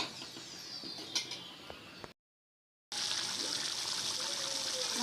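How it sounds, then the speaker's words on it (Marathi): Water is poured into an onion-tomato masala bhaji in a pan, giving a close trickling splash that cuts out briefly and then resumes. "मस्त पाणी घालून घ्यायचं आणि 10-15 मिनटं शिजवायचं"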